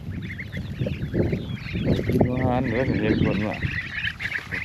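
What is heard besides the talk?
ducks quacking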